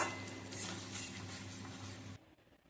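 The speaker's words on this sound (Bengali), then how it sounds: "আবারও একটু নেড়ে ছেড়ে নিচ্ছি।" Steady sizzling of onions frying in a pan with faint stirring, continuous and close, then cutting off abruptly near the end.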